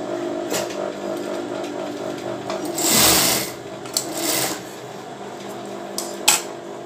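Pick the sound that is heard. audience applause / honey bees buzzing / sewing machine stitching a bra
sewing machine stitching a bra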